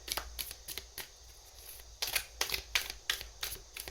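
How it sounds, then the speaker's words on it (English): A deck of tarot cards being shuffled up close, crisp riffling bursts in quick irregular clusters with short pauses between them. "So I'll just shuffle these cards."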